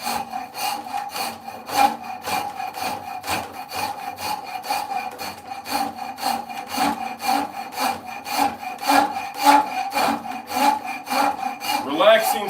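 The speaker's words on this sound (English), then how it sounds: "Relaxing sounds of ASMR of purple heartwood with a rasp." Rasp filing a piece of purpleheart wood on a workbench, a steady run of rhythmic back-and-forth strokes, close and fairly loud, continuing without any talk.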